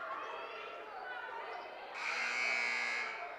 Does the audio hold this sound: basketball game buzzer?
yes